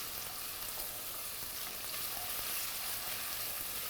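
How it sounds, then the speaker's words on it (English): Garlic and onion for a sauce sizzle and fry in a pan while being stirred, a constant close hiss with soft scraping mixed in, steady and unbroken with no talking. "now we start to turn this, the garlic and the onion."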